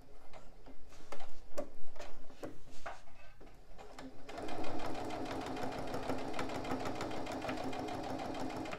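A domestic sewing machine topstitching a small patchwork fabric pouch, first running in short rapid bursts with ticking pauses, then stitching in one continuous steady whirr.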